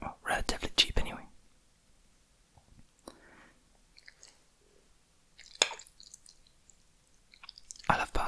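Close, wet chewing of pasta and breaded fish in béarnaise sauce, with soft squishes and smacks in bursts between quiet pauses and soft whispering.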